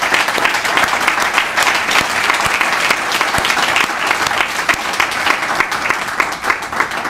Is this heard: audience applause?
yes